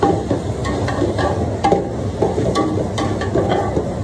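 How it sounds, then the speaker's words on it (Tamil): Meal maker, chana and masala being fried and stirred in a pan for a vegetable biryani, with a steady close sizzle and irregular scraping and clinking of a spoon against the pan. "மீல் மேக்கர், சன்னா எல்லாத்தையும் சேர்த்து நல்லா ரோஸ்ட் பண்ணிக்கலாம்."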